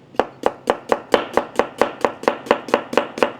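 A knife chops an onion on a cutting board in a fast, even rhythm of about thirteen crisp, close strikes, with no talking.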